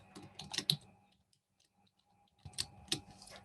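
Typing on a computer keyboard in two short bursts of quick key clicks separated by about a second and a half of near silence, close and quiet.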